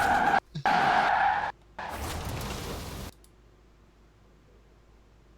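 Tires skid in a racing video game, with loud, harsh screeching bursts broken by brief gaps over the first three seconds, then near silence.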